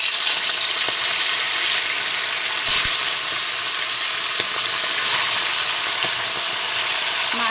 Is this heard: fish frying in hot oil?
yes